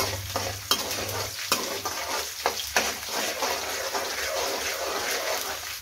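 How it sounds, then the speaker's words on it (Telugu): Tempering seeds, cumin, green chillies and onions fry in hot oil with a steady, dense crackle and hiss, broken by a few sharp pops and scraping stirs. "తాలింపు గింజలు, జీలకర్ర, పచ్చిమిర్చి, ఉల్లిపాయ ఇవన్నీ వేసి ఫ్రై చేస్తుంది"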